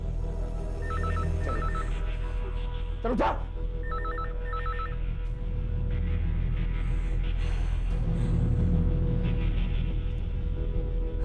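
A telephone bell rings in repeated short bursts during a tense CID crime drama scene, the rings spaced out over a low rumbling background with someone speaking between them.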